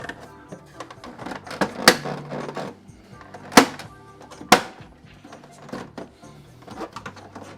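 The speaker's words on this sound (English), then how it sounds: "Now, everything just clips right back on." Plastic back panel of a HasLab Proton Pack being clipped back into place by hand: scattered close clacks and rattles, with three sharp, loud snaps standing out, and no talking.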